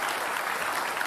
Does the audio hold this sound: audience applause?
yes